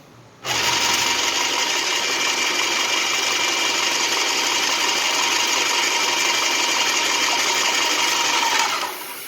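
Airless paint sprayer running at lowered pressure while priming its hose, a loud, steady mechanical whir that starts abruptly and continues unbroken for several seconds with no talk.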